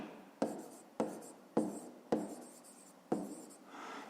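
A pen or pencil writes a math solution on paper: five or six distinct scratchy strokes in an irregular rhythm, very close and quiet, with no voices.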